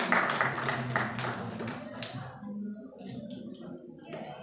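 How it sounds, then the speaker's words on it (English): Brief scattered clapping from a student audience at a women's day celebration, light and uneven, fading into quieter taps with some background murmur. "A big round of applause, dear students."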